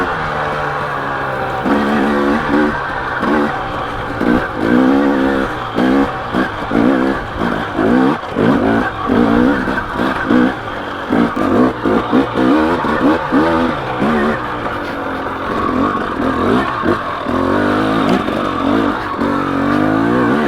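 A KTM 250XC or 300XC two-stroke dirt bike runs in second gear, loud and close, its engine note rising and falling in repeated bursts of revving across the whole stretch.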